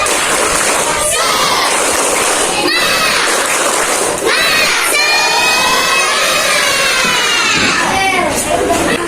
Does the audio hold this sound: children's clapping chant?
yes